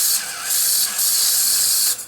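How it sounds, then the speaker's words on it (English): Front-loading tape elevator mechanism of a Sony Betamax 711B video recorder spinning, a steady close whirring and ratcheting motor noise that surges twice before stopping. "so if I press this here, we should see this spin"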